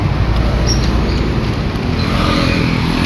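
Heavy street traffic heard while walking along a congested road, a steady close wash of engines and road noise with faint passing vehicles and occasional high squeaks.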